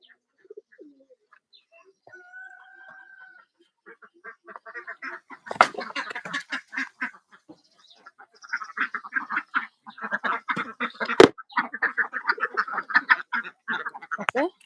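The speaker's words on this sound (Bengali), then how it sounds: "এই খাবারগুলো এখন আমি বাহিরে দিব হাঁসকে খাওয়ানোর জন্য" Ducks on a duck farm crowd around feed, letting out clusters of quacks and chattering calls at close range. The calls start sparse and build into a dense, busy chorus in the second half, with a sharp knock now and then.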